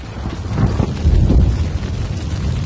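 A low, distant bombing rumble like thunder rolls continuously, swelling and easing in a dense roar over steady noise, with no voices.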